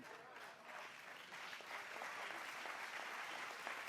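An indoor audience at a sermon claps together, a soft, steady patter of applause that swells slightly and carries on throughout.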